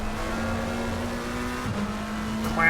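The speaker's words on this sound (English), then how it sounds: "McLaren trying to get through this final corner, which is now banked in real life" A McLaren GT3 race car lapping Zandvoort in Assetto Corsa Competizione, its engine a steady loud drone that dips briefly around a corner before revving back up, with no talk.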